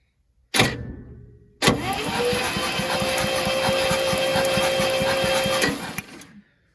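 A 1963 International Loadstar 1800 truck engine, unrun for over 20 years, cranks steadily with a rapid, rhythmic chugging for several seconds after a brief first burst, loud and close, with no voices.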